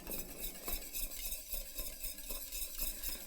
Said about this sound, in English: I got 2 whisks going here.